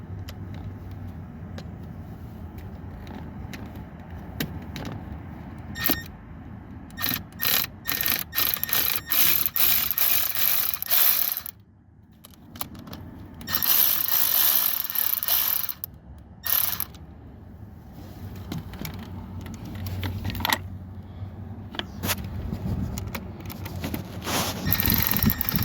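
A hand ratchet loosens 10 mm bolts on the intake of a Ram 6.7L, clicking in steady bursts close by with short pauses between turns.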